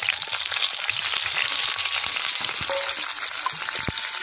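Pointed gourd (patol) pieces fry in plenty of hot white oil, a bright, continuous sizzling hiss close up with small pops and a brief scrape of stirring.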